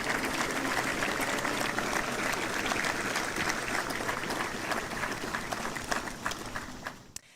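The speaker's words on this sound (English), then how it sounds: "Let's give them another round of applause." An audience at the Montford Point Marine Day ceremony applauds the United States Marine Corps Silent Drill Team, with sustained, dense clapping from a large crowd that holds steady, then thins and fades out at the end.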